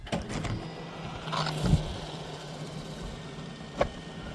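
An RV bunkhouse slide-out motor running as the slide extends, a steady mechanical hum with a low droning tone, nearby and moderately loud, with a couple of brief clunks along the way.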